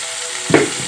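Chicken frying as chili powder goes in, a steady close sizzle with one brief louder flare midway.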